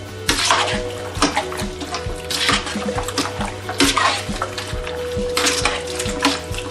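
Spoon stirring garlic into beef stew in a pot, with steady wet sloshing and repeated knocks of the utensil against the pot, close and fairly loud.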